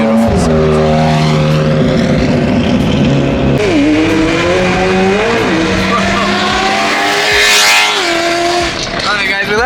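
A Mercedes C63 or BMW E92 M3 sports car revs loudly at a car meet, with high engine wails, tire squeal and a rising snarl, while people talk nearby.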